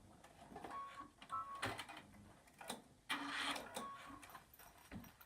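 A sewing machine stitching a double outside pocket runs in short bursts of whirring, stopping and starting several times, faint and close with quiet pauses between runs.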